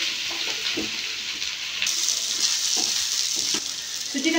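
Raisins and previously fried vegetables stirred in a pan for semolina pulao, steady sizzle with scraping spoon strokes every second or so, close and loud, no voices.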